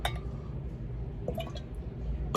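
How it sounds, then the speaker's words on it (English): Tesla tequila is poured from a bottle into a glass dram, a soft liquid trickle with faint glassy clinks over a low background rumble. "Pull this straight up and pour out"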